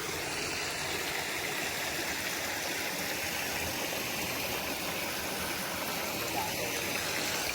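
A river in the Konkan region rushes over a weir in a steady, loud, unbroken roar of churning water, close by and filling the whole stretch.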